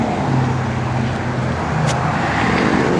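A 1955 Chevrolet 210 engine idles in a steady, close rumble after starting, with a continuous low drone and a brief higher whine partway through.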